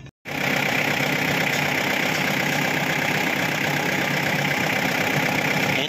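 A Mitsubishi L400 van engine fires up after a brief silence and settles into a steady, loud idle close by, with no talking over it.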